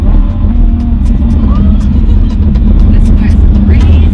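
A car is driven on the road, its engine rumbling steadily and loud throughout with a sustained low hum, while a person talks over the drive.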